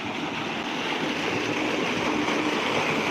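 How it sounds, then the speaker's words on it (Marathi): A farm water pump motor runs with a steady, broadband whooshing roar of motor and rushing water, continuous and fairly loud with no voices. "हे बघा आता आपण आता मोटर चालू केलेली आहे"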